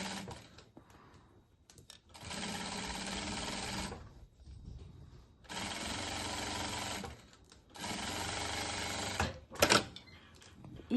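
A sewing machine stitches the seams of a garment hood, running in three long, steady bursts of whirring with pauses and handling noises in between, close and loud, with no talking.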